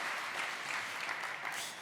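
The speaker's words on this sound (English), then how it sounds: "Big applause, please" Audience applause at a PyData conference talk, a steady dense clapping from a crowd that holds evenly for nearly two seconds and then begins to taper.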